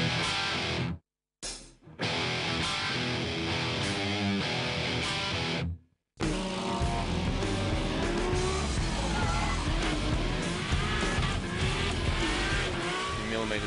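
A drift car skids sideways at over 100 km/h near another car, tires squealing under a loud, constant engine roar, with two short dropouts in the first six seconds.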